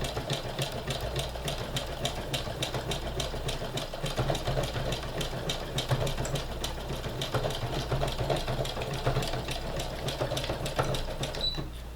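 A sewing machine runs steadily through an embroidery stitch on a fabric face mask, its motor hum loud and close under a fast, even needle clatter that never stops, with no voices.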